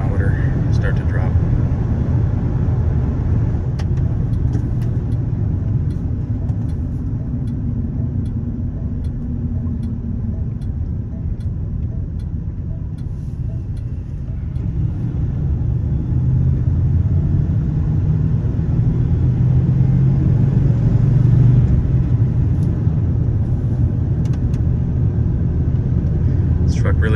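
A 1997 Ford F-250 XLT 4x4 pickup with a 460 V8 and 5-speed, on new BFGoodrich tires, drives and then coasts: a steady low engine and road rumble from inside the cab that swells slightly later on.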